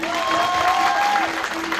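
Audience clapping in a hall at a stage dance performance, steady dense applause filling the moment, with a sustained musical tone held faintly beneath it.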